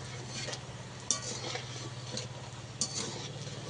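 Banana flower balls frying in a pan, with a faint steady sizzle under a low hum and two sharp clicks as a utensil turns them.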